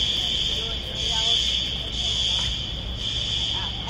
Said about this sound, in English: an alarm goes off inside a nearby parking lot